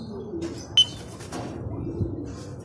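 Racing pigeons arriving at a loft during training, with soft cooing and a sharp chirp against quiet outdoor background, plus a brief flutter-like rustle.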